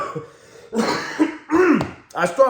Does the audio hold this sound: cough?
yes